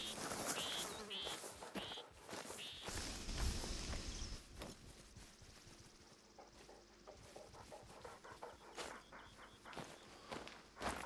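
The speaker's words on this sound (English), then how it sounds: "Okay, those are Gunner's footsteps." Pawsteps of Gunner, the hunting dog in Hunter Call of the Wild, moving across the ground in a light, uneven rhythm, soft and nearby.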